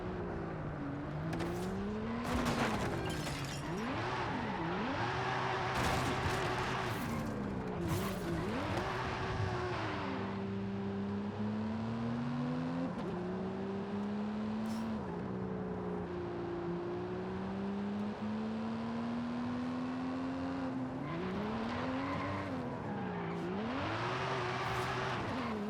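A car in Forza Horizon 5 driving through a compact, twisty city, its engine rising and falling through gear changes and revs, with tire squeals on tight corners, loud and close throughout.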